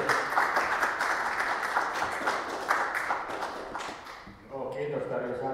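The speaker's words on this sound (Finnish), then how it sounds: "Saatiin spontaanit ja raittuvat aplodit" Audience applause after an academic talk, dense steady clapping from a crowd in a lecture hall, close and loud, fading out near the end as a voice begins to speak.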